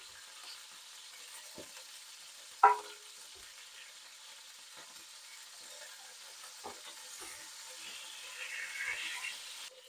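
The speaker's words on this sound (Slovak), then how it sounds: "Na oleji som orestoval cibuľu." Onion sizzles quietly in hot oil in a pan where fish fillets were just fried, a soft steady hiss broken by one sharp clatter early on and a few small ticks.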